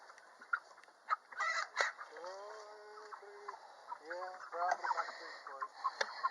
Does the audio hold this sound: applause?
no